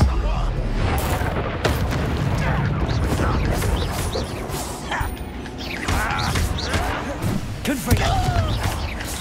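Spell explosions and combat blasts in the wizarding video game Hogwarts Legacy boom repeatedly in a chaotic battle, with heavy thuds, sharp impacts and magical whooshes layered over one another, loud and close, under shouted spell calls.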